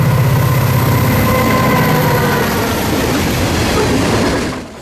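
A Florida East Coast freight train, number 430, hauling eleven open-top rock hoppers full of sand, rushes past at speed, loud and close, with a continuous roar and rail clatter that fades out at the very end.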